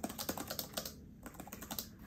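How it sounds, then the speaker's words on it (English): Someone types steadily on a QWERTY computer keyboard, the quick close keystrokes broken by a brief pause partway through. "I could type using my QWERTY keyboard."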